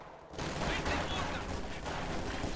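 Gunfire in a WWII real-time strategy game, a dense continuous volley of rattling shots and bursts starting abruptly and staying loud throughout.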